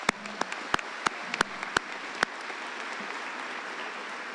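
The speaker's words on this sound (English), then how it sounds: "Let's give these guys a round of applause." Applause from a crowd at a high school graduation ceremony, a steady distant wash of clapping with several sharp, close hand claps standing out over the first couple of seconds.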